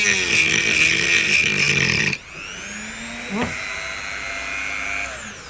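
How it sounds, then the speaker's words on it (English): A Dremel rotary tool whines loudly as it cuts into a casing, a dense high-pitched grind that cuts off sharply, leaving a quieter motor hum with a brief clatter. "I got my Dremel, and I'm going to cut round this here and expose what's inside."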